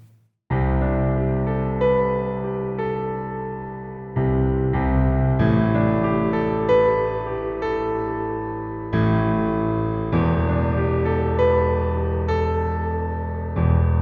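Piano played with a powerful, full sound, low left-hand octaves under a simple four-note theme, loud and close, with several sustained chords struck in sequence and no talking.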